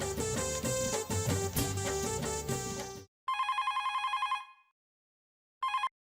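A telephone rings while a call is placed: music plays for about three seconds, then electronic ring bursts sound with a pause between them, clear and alone.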